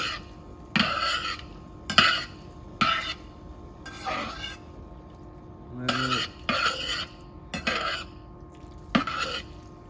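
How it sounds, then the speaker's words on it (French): Pasta being tossed and coated in pink sauce in a pan, a series of about eight sharp utensil clinks and scrapes in an uneven rhythm, close and moderate, with no talking. "Je vais pouvoir venir donc enrober mes pâtes."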